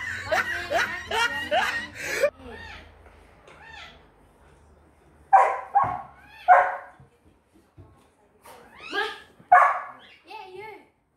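A dog gives short, sharp barks in a few separate bursts, with a person talking at the start and pauses between the barks.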